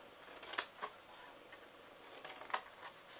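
Scissors snip through paper while cutting out a pizza-themed treat box, with a few faint, close, crisp cuts heard in a quiet room.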